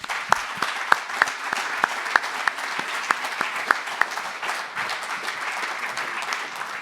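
A conference audience applauds panellists and speakers at the close of a session, steady clapping from a moderate-sized crowd with a few sharp individual claps standing out, gradually thinning toward the end.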